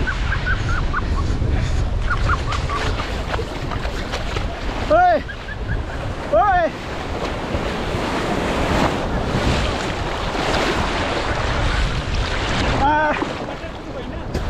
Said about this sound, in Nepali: ओ कत्रो छाले